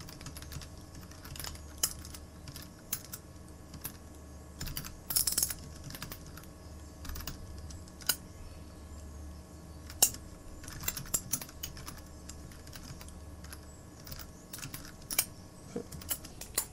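Rapid clicking of a computer keyboard as Bangla text is typed, steady irregular keystrokes close up with a few louder taps, no voices.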